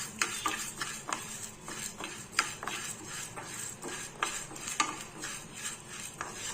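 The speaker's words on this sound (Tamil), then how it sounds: "இப்போ நம்ம 1/2 கப்பு துவரம்பருப்பு இதையும் லேசாக வறுத்துக்கலாம்." Half a cup of toor dal is dry roasted and stirred in a pan for rasam powder. A spoon scrapes and rattles against the metal in quick, irregular strokes, close and moderately loud, with grains shifting underneath.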